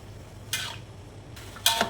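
Pancit bihon rice noodles stirred in a pot, giving two short scraping swishes about a second apart against a quiet kitchen background.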